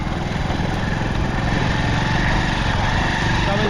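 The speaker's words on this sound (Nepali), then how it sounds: "म बाइक चलाउँदैछु, हामी साकेला जाँदैछौँ।" A motorcycle ridden along a village road in Khotang, Nepal, carrying a rider with his son on the back, on the way to a Sakela festival; a steady, loud engine drone runs throughout with no pauses.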